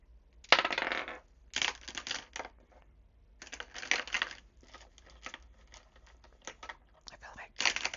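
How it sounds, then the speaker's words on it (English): Dice tumble and rattle inside a dice box in close, crisp clattering bursts separated by short pauses, some bursts longer and louder than others, with no talking. "I feel like dice boxes make such a lovely noise."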